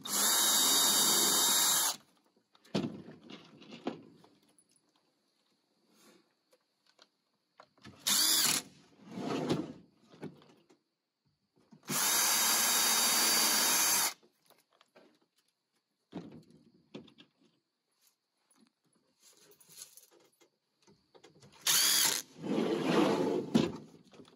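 A power drill boring into the center of a drum, several short loud bursts of whirring separated by quiet gaps and soft handling knocks.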